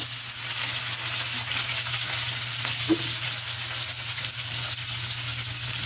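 Garlic and onion sizzle steadily in hot frying oil as adobong sitaw with pork is cooked, a constant close crackle with a low hum underneath and one faint clink near the middle.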